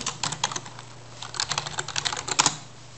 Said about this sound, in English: Apparently we still have to enter our password